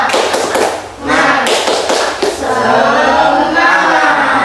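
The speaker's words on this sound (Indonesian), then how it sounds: "Tepuk semangat." A classroom of pupils performs the rhythmic tepuk semangat spirit clap, a loud run of patterned claps and thumps mixed with a teacher's voice and children chanting along.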